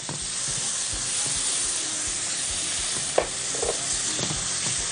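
Raw tomato puree sauce sizzles loudly as it hits garlic frying in a pan, a steady close hiss with stirring scrapes, made while cooking sausage moussaka.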